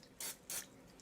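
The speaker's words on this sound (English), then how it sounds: "So we're going to spray this right here" Two short, sharp bursts of aerosol spray hit a plastic rolling pin, each about a third of a second long with a brief pause between them. Nothing follows but quiet room tone.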